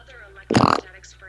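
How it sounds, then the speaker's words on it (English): A short, loud, buzzing fart sounds close by for about a quarter second, set against a low steady hum. "Was that a fart?"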